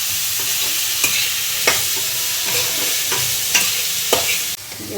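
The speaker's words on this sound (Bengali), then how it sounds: "ভাজা হয়ে যাচ্ছে পনির" Steady sizzling of paneer frying in a pan, broad and hissy, with occasional sharp clicks of a utensil stirring.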